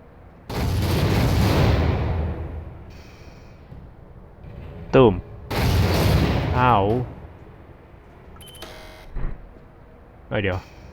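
Two booming explosion blasts in Half-Life with long rumbling tails, each followed by short tonal game sound effects; no talking.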